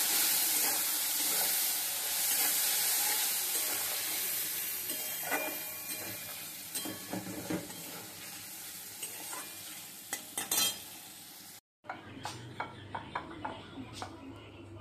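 Cumin, ginger and turmeric fry in oil for a paneer potato curry, a loud steady sizzle with scraping stirs, then a brief cut and softer sizzling with sharp spoon knocks; a voice speaks over it.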